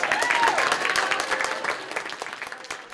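Union partners clap and cheer in a dense burst of applause that stays loud at first, then thins and softens toward the end, with a few voices mixed in.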